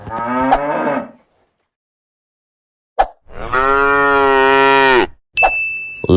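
A cow moos twice in long, loud, low calls, the second one sustained for about two seconds, followed by a short bright ding.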